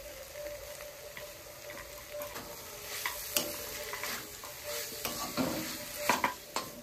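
Chicken sautéing with salt, ground coriander, cumin and Kashmiri chilli powder, a soft sizzle under repeated scraping stirs that grow sharper toward the end, with no voices.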